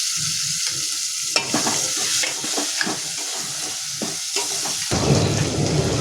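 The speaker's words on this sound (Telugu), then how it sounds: "నూనెలో కొంచెం వంకాయ వేయించుదాము." Eggplant frying in oil with tomato for a field bean and dried fish curry, crackling sizzle and repeated stirring scrapes up close, growing denser and louder toward the end.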